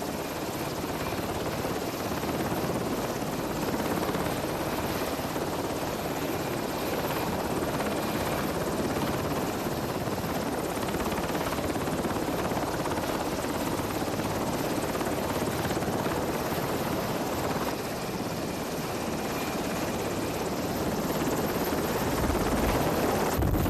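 Helicopter on a ship's flight deck, a steady loud rotor and turbine roar running unbroken throughout with dense broadband wash and no talk.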